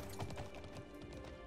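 Horse hooves clip-clop in the online horse-riding game Alicia Online on a busy farm, a steady soft trotting rhythm under game music and ambient noise.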